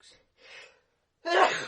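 A single sneeze from an adult in a quiet indoor conversation, a short breathy intake followed by a louder, abrupt burst, close and unaccompanied by talk.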